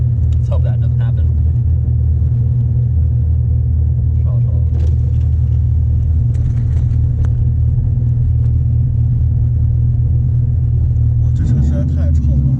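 Low, steady rumble of a Dodge Viper's engine under throttle, loud and continuous, with voices talking over it throughout and a brief swell near the end.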